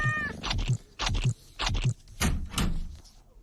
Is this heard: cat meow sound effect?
yes